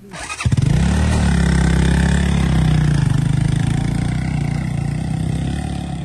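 A motorcycle engine starts with a quick crank and settles into a loud, steady, close idle on a hilly road, its throbbing rumble continuing without any talk.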